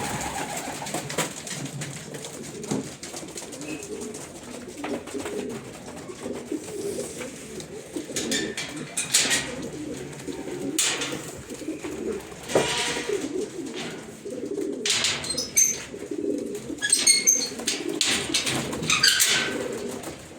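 Racing pigeons coo steadily in a loft, soft layered calls repeating throughout with occasional fluttering, close and moderately loud with no talk.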